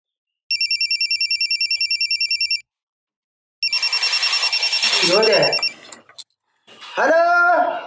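A loud electronic phone ring trills in two bursts separated by a short gap, followed by a nearby voice speaking.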